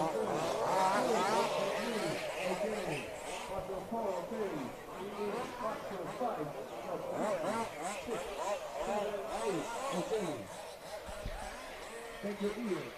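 Large-scale off-road RC cars run a warm-up lap on a wet track at a European championship race, their engines buzzing and rising continuously, with a public-address voice and crowd chatter layered over the steady motor noise.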